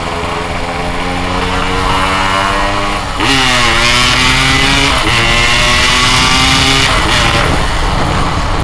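A Yamaha RX King two-stroke motorcycle engine revs hard and close, its buzzing note climbing in pitch, dropping briefly, then climbing again through repeated accelerations.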